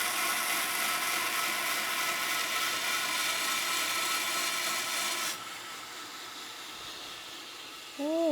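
A 12-inch wheel grinds lengthwise along a keris-style dagger blade, a steady loud broadband abrasive rush that suddenly drops to a quieter hiss midway, with a brief rising whine near the end.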